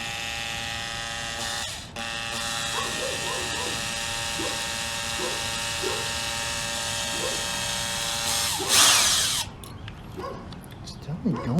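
An electric drill whines steadily while boring into a 1980 Honda CB750F Super Sport motorcycle, holding a constant high drone with small knocks, a louder burst near the end, and people talking nearby.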